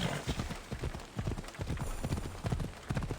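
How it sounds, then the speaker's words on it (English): Horse hooves clip-clopping at a steady walking rhythm in the Assassin's Creed Odyssey video game, the Pegasus mount trotting with close, moderately loud repeated hoofbeats over faint background ambience. "Right then, let's take our Pegasus horse here"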